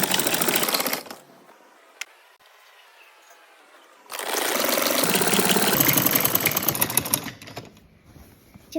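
Sewing machine stitching kurti fabric runs loud and close in two long bursts of rapid mechanical whirring, with a quiet pause between them.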